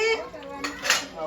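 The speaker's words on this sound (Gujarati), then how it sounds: "વાસણ ધોઈ જાય છે." Dishes and utensils clink and clatter during washing by a dishwashing machine at home, a short burst of close metallic knocks and rattles over running background noise.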